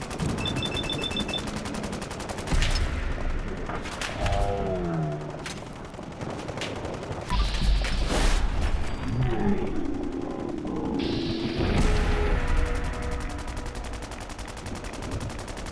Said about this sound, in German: Irgendwer schießt ja immer noch.